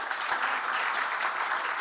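Audience applause for an honoree at a Spanish-language technical committee gathering on innovation management, a steady, dense wash of many hands clapping at moderate distance, continuous and even with no voices over it.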